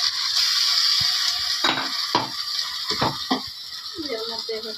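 Spice paste frying in a pan with a steady hiss of sizzling oil, punctuated by several spoon scrapes and clinks against the pan, close by.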